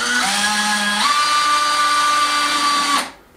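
A cordless power drill drives screws into wood to hold drawer slides in a handmade kitchen, a loud steady whine whose pitch steps up partway through before stopping abruptly.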